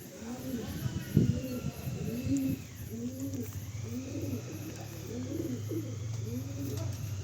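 Several pigeons coo in rounded, repeating phrases at a loft with cages, steady and fairly close over a low background hum.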